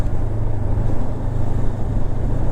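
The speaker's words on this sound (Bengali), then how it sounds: "আর ভীষণ স্মুথ, ইঞ্জিনটা খুব স্মুথ" A Honda NX500 motorcycle engine runs smoothly at an even, low rumble, heard continuously from the rider's position with wind noise mixed in and no breaks.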